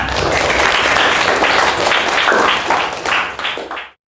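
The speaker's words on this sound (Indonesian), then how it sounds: "Beri tepuk tangan anak-anak." Children applauding in a classroom, loud dense clapping close by that fades out near the end.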